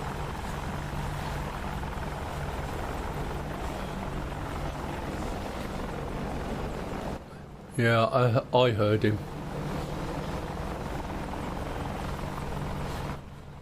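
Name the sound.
Shark attack helicopter flying in the video game DCS World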